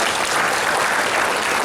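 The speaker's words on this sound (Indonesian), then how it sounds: "Tepuk tangan dulu." Audience applause at a humorous health talk in Denpasar, Bali: a dense, steady wash of clapping from a large crowd that holds even and loud throughout without any break.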